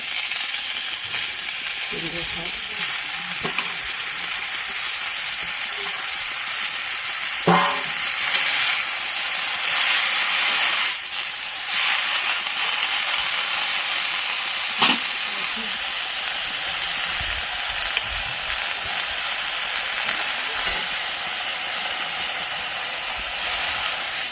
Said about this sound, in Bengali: এখন হালকা নেড়ে নেব।